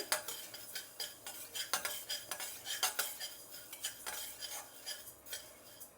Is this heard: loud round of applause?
no